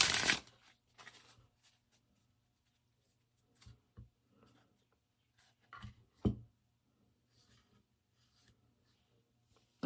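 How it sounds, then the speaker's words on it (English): A tarot card deck being shuffled, a loud riffling burst at the start followed by scattered soft card rustles and a few sharper slaps around the middle, close and otherwise quiet. "I just have to shuffle it whenever I get it out"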